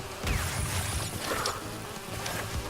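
Bees from the Crash Bandicoot 2 video game buzz in a steady insect drone. Thumps and game effects sit underneath, and no one talks.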